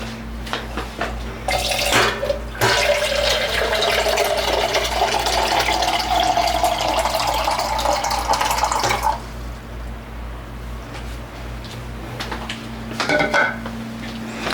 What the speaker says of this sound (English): So I'm gonna fill it full of water.